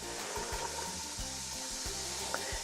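Chopped onion and celery sizzle steadily in a hot soup pot, a close, continuous crackling fry broken by a few soft clunks and scrapes of stirring, with no talking.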